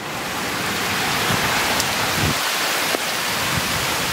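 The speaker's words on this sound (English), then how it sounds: "It is raining outside very, very hard." Very heavy, monsoon-like rain pours down outdoors near a bench of succulents and bonsai, a steady, dense roar of broadband noise that stays loud and continuous throughout, with a few brief sharper splashes and no talking.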